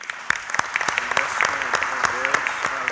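Audience applause at the end of a public meeting on Praslin and La Digue, a dense, steady clatter of many clapping hands close by, with a voice speaking over it.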